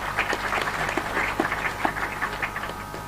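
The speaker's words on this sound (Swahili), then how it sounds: "Kwanza pigieni chair makofi tena." Audience clapping at a public announcement of ministerial performance rankings, a steady wash of applause from a crowd lasting the whole stretch at moderate loudness, with no speech over it.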